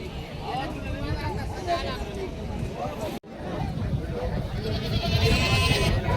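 Goats bleat at the Jawala goat market in Aundha Nagnath, Hingoli, with several scattered cries under close conversation and crowd chatter. The sound briefly cuts out at the midpoint before the busy market noise resumes.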